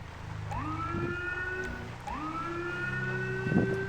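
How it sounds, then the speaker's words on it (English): A police car siren in the fivePD video game wails in repeated rising sweeps, two cycles heard clearly over a steady engine hum. "When I got this thing going, lights and sirens"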